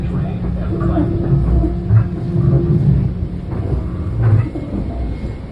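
A Metro-North M7 electric commuter train pulls into North White Plains station on the Harlem Line, a steady loud rumble with hum and clacking over the rails, under a faint voice.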